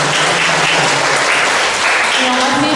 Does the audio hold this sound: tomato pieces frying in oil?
no